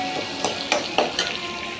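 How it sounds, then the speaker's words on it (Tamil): Garlic and onion are sautéed with dried vegetables in a pan, giving a continuous sizzle with a few sharper scraping stir strokes. It is close and moderately loud, and nobody speaks. "நல்லா பூண்டு வெங்காயம் நல்லா வதக்கிட்டு"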